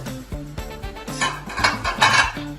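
A utensil scraping and clinking against a pan while tomato puree is spread around, a series of irregular metallic taps and scrapes at close range with no voices.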